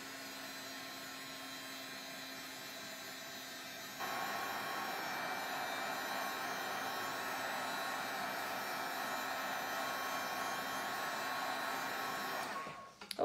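A dryer runs steadily over paint on a mixed media Christmas canvas, a continuous whir that steps up louder partway through and cuts off abruptly at the end, with no talking.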